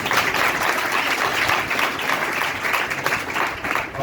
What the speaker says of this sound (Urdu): میں چاہتا ہوں کہ آپ ایک دوسرے کے لیے تالیاں بجائیں